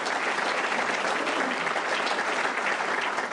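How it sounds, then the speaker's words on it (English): An audience gives sustained, even applause, a dense wash of many hands clapping at a moderate distance with no pauses or talk. "Give her a round of applause."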